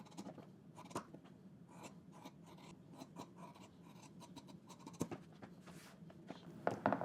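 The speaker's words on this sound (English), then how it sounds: "Let's go ahead and take care of these corners and trim some of the seam allowance down." Scissors snip through the seam allowance of a sewn coat, trimming the corners close: soft, quiet, repeated cuts and fabric rustles in an otherwise still room, with no voices.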